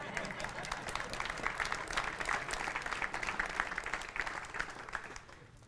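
Hand clapping from an audience at a military retirement ceremony, a dense, fairly close patter of many hands with some voices mixed in, holding steady before fading slightly at the end.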